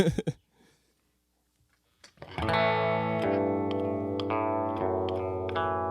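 Loud distorted electric guitar chord rings out through an amplifier turned up high after a short pause, sustaining with rich harmonics, a few picked accents and built-in tremolo.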